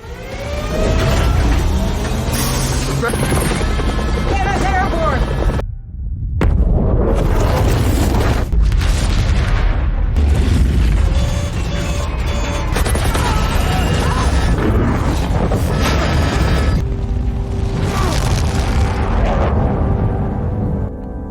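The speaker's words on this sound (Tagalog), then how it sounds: "Pumutok ang nuclear bomb at ang malalaking pagsabog ay nagpatumba sa helicopter" Massive nuclear bomb explosions in a film boom and rumble continuously, with a brief drop before more thunderous blasts and debris crashing follow.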